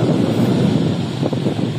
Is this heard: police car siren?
no